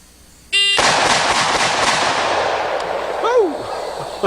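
Handgun shots fired after a shooting timer's start beep: a short electronic tone, then loud sharp blasts with heavy reverberant muzzle roar, and a whistling sweep near the end.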